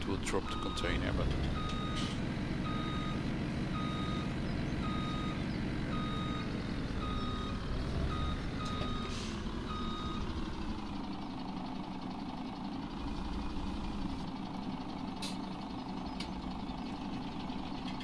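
A truck in Farming Simulator 17 backs up with a series of evenly spaced reversing beeps over a steady engine drone, and the beeping stops partway through while the engine keeps running.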